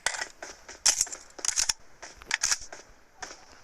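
Uzi gunfire in the mobile battle royale game PUBG Mobile, repeated short bursts of sharp crackling shots, moderately loud and close.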